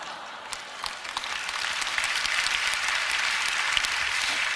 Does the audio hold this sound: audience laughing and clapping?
yes